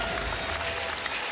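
Crowd applauding at a women's college basketball game between South Carolina and Wofford, a continuous wash of clapping and arena noise filling a large space, steady and fairly loud without a break.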